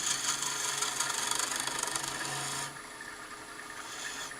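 A wooden letter opener being turned on a lathe, the tool cutting with a steady, loud broadband rasp that stops abruptly partway through, leaving a quieter hum with faint scraping.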